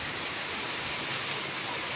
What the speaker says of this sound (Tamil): ஊருக்கு கிளம்பின உடனே பயங்கரமான ஒரு மழை